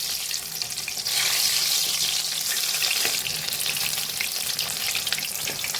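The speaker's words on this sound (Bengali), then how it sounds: "গ্যাসের আগুনটা আমি একদম মিডিয়ামে রেখে আস্তে আস্তে কিন্তু ভাজছি।" Mushroom fritters (pakoras) sizzle steadily in hot oil over a medium gas flame, a continuous dense crackle that rises slightly after the first second and holds evenly, with no talking.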